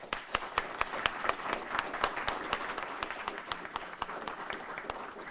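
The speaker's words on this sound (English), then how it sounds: "So again, a round of applause for the presenters." An audience applauding, a dense patter of many hands clapping steadily throughout, moderately loud and without voices.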